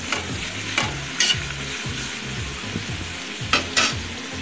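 Ginger garlic paste sizzles steadily in hot oil in a pan while being stirred for chicken biryani, a continuous close frying hiss broken by several sharp scraping strokes of a spoon, with no voices.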